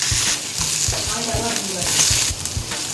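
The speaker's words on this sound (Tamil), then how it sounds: "இப்போ நான் இதை வதக்கிக்கிறேன்" Onions and green chilies sauté in a pan for a Sri Lankan dried-fish coconut sambol, a steady soft sizzle broken by regular scraping strokes of a spoon, close and moderately quiet.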